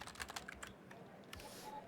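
Soft, quick keyboard keystrokes tap out a short burst, then thin out, as text is typed during The Operator video game, quiet and close with no voices.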